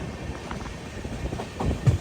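Kochuveli–Rishikesh express train running through forest toward Dehradun, heard from inside a 3AC coach as a low, steady rumble with soft rhythmic clatter of the wheels.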